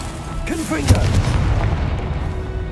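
In the video game Hogwarts Legacy, a Confringo spell explosion gives a deep, loud boom close by, with a rumbling tail, and a voice speaks briefly just before the blast.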